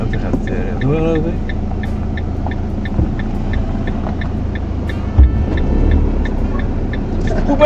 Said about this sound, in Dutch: Die auto gaat doorlopen.